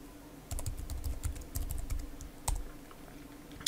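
Password tapped out on a computer keyboard: a quick, irregular run of soft, close keystroke clicks in short bursts with pauses, fairly quiet and with no talk.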